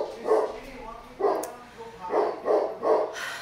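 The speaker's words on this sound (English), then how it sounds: "Dogs." Dogs barking in a series of five short, fairly close woofs spaced unevenly over a quiet background.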